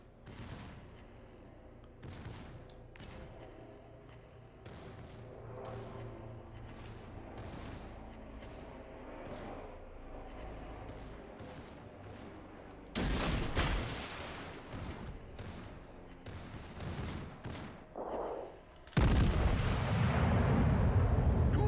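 Warship main guns fire in a World of Warships naval battle, with a run of distant booming salvos that builds into louder, closer blasts and heavy rumbling detonations.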